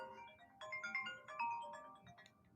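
A mobile phone ringtone plays a short electronic melody of bright repeating tones at moderate volume indoors, with no talk over it.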